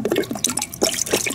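Water gurgles and glugs in uneven bursts out of an upside-down container as air bubbles in past a card during a gas laws lab demonstration, close and fairly loud with no talking.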